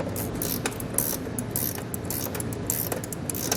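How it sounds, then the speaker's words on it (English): Rapid metallic ratcheting clicks of two 10mm wrenches tightening small running board bolts on a pinch weld of a 2014 truck, close and continuous throughout. "for the smaller bolts here on our pinch weld, we can use two 10mm wrenches to tighten them up"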